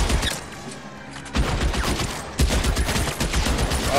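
Several bursts of gunfire crack close and loud, with overlapping rapid shots arriving in three clusters separated by brief lulls.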